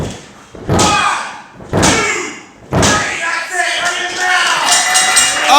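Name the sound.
wrestler slammed onto ring mat by a chokebomb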